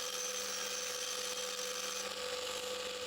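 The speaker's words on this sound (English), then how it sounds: "we'll just linish, radius these edges to take a sharp burr off" A linisher grinds the edges of pedal-car metal parts to take off sharp burrs, a faint, steady, high whirring hum with no pauses.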